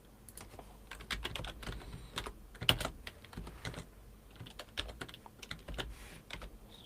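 Computer keyboard typing in irregular bursts of close, crisp keystrokes, with short pauses between runs while working in business software.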